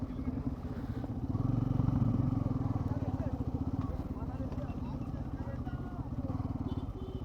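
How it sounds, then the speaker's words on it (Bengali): A large group of motorcycles rides on an old WWII runway on the way to Jaipur Forest, with engines droning and rattling steadily up close while people talk over the noise throughout. "সে রানওয়েতে এখন আমরা যাচ্ছি আমাদের বাইক নিয়ে"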